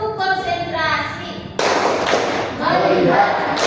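Students in a classroom clap together in a rhythmic concentration game, with a sudden burst of group claps and thumps after a spoken lead-in.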